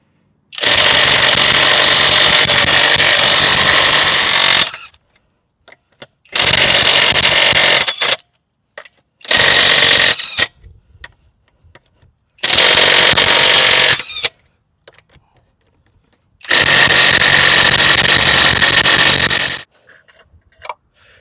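A SNUOK 1838 1/2 inch cordless impact wrench, running on a partly charged battery, hammers lug nuts loose in five loud, sustained bursts of a few seconds each, with short silent pauses between them.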